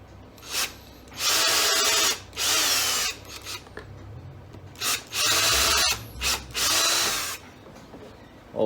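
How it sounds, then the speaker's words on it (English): A power drill with a skinny bit whirs in several short, loud bursts, making pilot holes in a shoe heel for horseshoe tacks, separated by brief pauses and light handling noises. "make a little pilot hole just with our drill, with a skinny drill bit"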